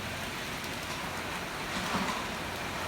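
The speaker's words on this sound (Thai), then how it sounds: "ฝนตกมา เริ่มแห้งเริ่มแห้งมาเลื่ยๆครับ" Steady rain pours down in a dense, even hiss that fills the whole stretch without a break, with no voices present.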